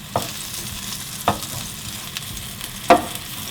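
Eggplant slices pan-frying in cooking oil, a low steady sizzle broken by three sharp clatters as the pieces are flipped and turned.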